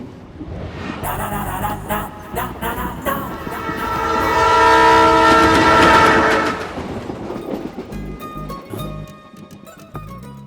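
A train in a Hindi film scene rumbles past loudly with horn tones swelling to a peak mid-clip, then clattering wagons and a brief music sting as it fades.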